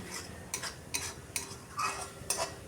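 Fish masala sautés in refined oil with curry leaves, coconut and garlic, a quiet sizzle under regular spoon scrapes and taps against the pan, repeated about every half second.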